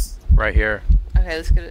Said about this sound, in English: I get heartbeats.